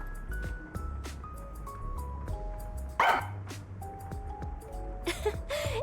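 Small dog barking in the video game Master Detective Archives Rain Code, a few short yips and barks over steady game music and background tones.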